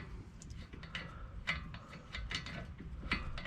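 A bolt on a brake caliper of a Honda Civic Type R being wound out with a ratchet, quick irregular metallic clicks and ticks close up over a quiet background.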